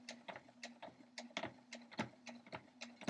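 Sewing machine running a back stitch through fabric for a cat quilt block border, a quiet run of short irregular clicking stitches over a steady low hum, close by with no talking.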